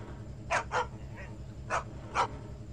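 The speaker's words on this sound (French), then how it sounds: "un chien féroce vous empêche l'accès" A fierce dog blocks the way in the video game Leisure Suit Larry 7, barking four sharp times in short, evenly spaced bursts over a low, droning game background.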